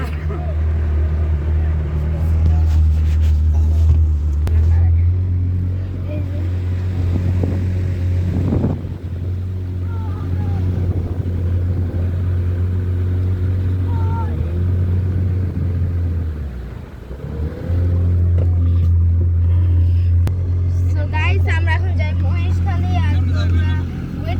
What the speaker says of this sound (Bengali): আমাদের স্পিড বোট ছেড়ে দিয়েছে।